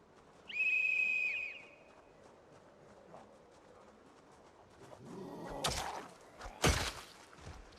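A shrill, high-pitched whistle in a video game shrieks for about a second near the start, followed by quieter footstep-like thuds and a couple of sharp bursts toward the end.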